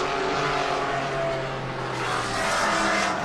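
Race cars at the Spokane Festival of Speed roar past in a continuous loud engine drone with shifting pitch, a dense sustained racing sound with no pauses.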